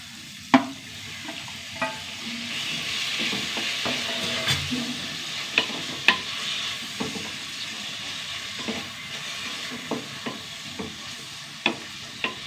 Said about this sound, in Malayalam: ഉള്ളി ചെറുതായിട്ട് വഴണ്ട് വന്നു ഉള്ളിക്ക് രണ്ട് തക്കാളി